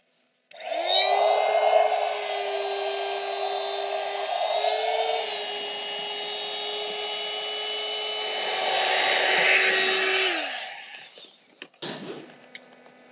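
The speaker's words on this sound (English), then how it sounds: "I'm going to attempt to blow up this airbed." An electric pump inflates an airbed inside a camper van, a loud steady motor whine and rushing air running continuously for about ten seconds, rising slightly in strain near the end before cutting off, followed by a few faint clicks.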